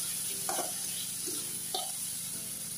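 Potatoes and tomatoes fry in a pan with a steady soft sizzle, broken by a few brief scrapes and stirs of the spatula; no one speaks.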